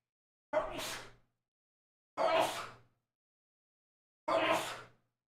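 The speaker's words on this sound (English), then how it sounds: "Had to sneeze." Three short, breathy bursts spaced about two seconds apart in a quiet room, each sharp at onset and quickly fading.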